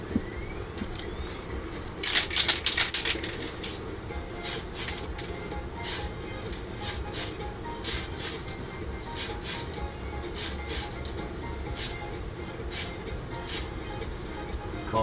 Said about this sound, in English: Call that the first coat done.